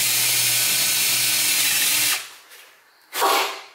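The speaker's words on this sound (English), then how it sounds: "just give it a nice little high speed drilling" A power drill runs at high speed with a sanding attachment cleaning a Ram 1500 headlight lens, a loud continuous whine for about two seconds, then cutting off, then a short burst of hiss.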